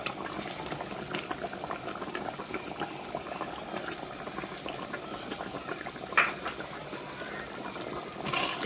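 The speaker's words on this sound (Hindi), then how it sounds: "अब हम थोड़ी सी फ्लेम को तेज़ कर देंगे ताकि पानी खुश्क हो जाए" Chicken korma liquid boils vigorously in a pot over a high flame, a dense continuous bubbling and hiss with a couple of brief clatters near the end.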